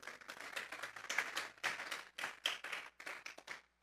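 A church congregation at a Sunday service claps together as an offering to God, rhythmic bursts of many hands heard faintly at a distance, with no talking.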